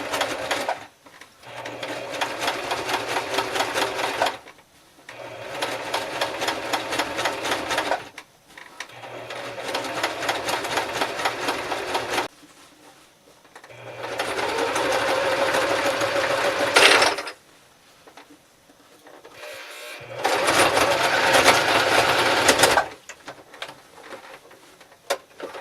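A sewing machine stitches a button-up shirt into a skirt in several loud, close bursts of rapid whirring, separated by short quiet pauses.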